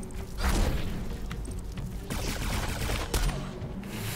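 Sniper gunfire in the shooter game Alienation cracks in several sharp shots amid whooshing and rumbling battle noise, fairly loud and irregular over about four seconds.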